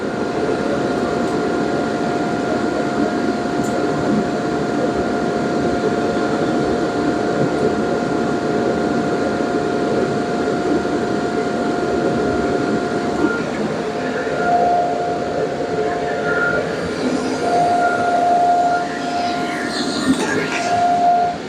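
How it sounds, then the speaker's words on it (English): An inflatable bounce house blower forcing air into a homemade waste vegetable oil burner makes a loud, continuous roaring rush with a steady hum, unbroken throughout, with faint higher sounds near the end. "it just seems like the bounce house blower is too much for it"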